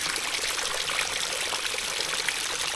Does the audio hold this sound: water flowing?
yes